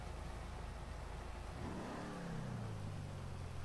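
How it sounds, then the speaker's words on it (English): A car engine in a video game, revving up from a low rumble into a rising, steady drone that holds to the end, heard alone over a constant hiss of background noise. "It does have a mean engine too."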